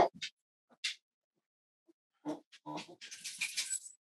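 A dog gives a few sharp, separate barks at a distance, with long silent gaps between them, then a busier run of yelps and scrabbling noises toward the end.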